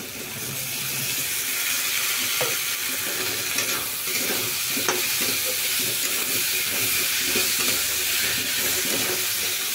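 Rice with green peas stirred and fried in a pan, giving a steady loud sizzle with scraping spatula strokes throughout.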